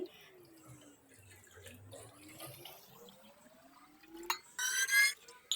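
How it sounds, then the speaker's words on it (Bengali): Water poured into a cooking pot holding a caramel pudding mould set on a strainer, ready for steaming; a thin stream rises steadily in pitch as the pot fills, ending in a few louder, splashy gushes close by. "একটি হাঁড়ির মধ্যে আমি একটি স্ট্রেনার দিয়ে এর মধ্যে পুডিনের মলটা দিয়ে আমি পানি দিয়ে দিচ্ছি"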